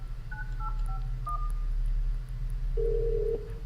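Telephone keypad dialing in the horror video game Krampus Is Home: a quick series of distinct touch-tone beeps, then a longer tone, over a low steady background hum.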